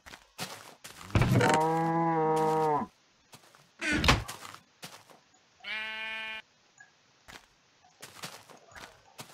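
Cow mooing in a Minecraft modpack game, two long harmonic lowing calls with a short thump between them, close and clear with no talk over them.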